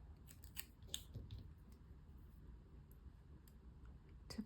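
Scissors snipping a paper flower out of a sheet, a few quick close snips under quiet room tone.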